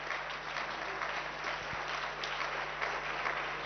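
Audience applause at the close of a conference session on Mediterranean risk and security factors, a steady, dense wash of clapping filling the room at moderate level throughout.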